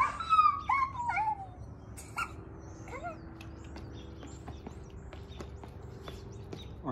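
A small dog whimpers and yelps in a short burst of high, whiny calls near the start, then goes quiet over a low background hum, with faint scattered clicks and a distant bird-like chirp during a backyard pet show.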